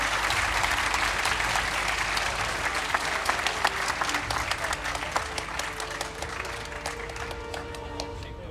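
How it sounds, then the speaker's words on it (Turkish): A crowd at a university shake table test applauds to cheer up a team whose model failed. The clapping is sustained and even, with scattered sharp claps standing out and faint voices underneath. "bir moral alkışı gelsin kendilerine arkadaşlarımızın"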